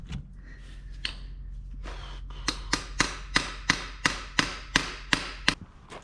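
Hammer blows on a Corvette part, about ten sharp metallic strikes in a steady rhythm after a few lighter taps, close and clear over a low background hum.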